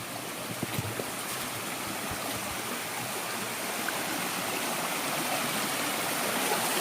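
Water rushes steadily in a flowing stream, a constant broad hiss without pause and no voices.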